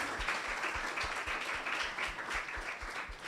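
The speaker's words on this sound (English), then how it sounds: "A round of applause for every member of our panel." A summit audience gives a round of applause for the panel members, dense fairly faint clapping with a soft low thumping beat beneath it, steady from start to finish.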